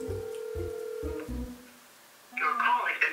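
A phone call being dialed on a mobile gives a few evenly spaced ringback or dial beeps, followed by a short tone and a burst of noisy sound, with no talk.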